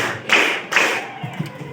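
A group claps in unison at a motivational session, two loud sharp synchronized claps close together followed by softer scattered taps and thuds.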